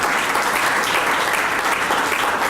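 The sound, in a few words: audience applause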